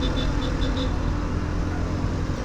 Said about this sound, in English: now I'm in fourth gear, 20 kilometers per hour. It doesn't freaking knock at all.